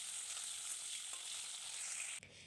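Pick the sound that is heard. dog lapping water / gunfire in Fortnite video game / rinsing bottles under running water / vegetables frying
vegetables frying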